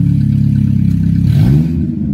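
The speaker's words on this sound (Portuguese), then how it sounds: "normalmente vai fazer isso quando eu acelero esse carro" A 2000 Chevrolet Astra 1.8 GL engine idles with a steady, loud, close hum, then is revved, the pitch sweeping upward before easing back down.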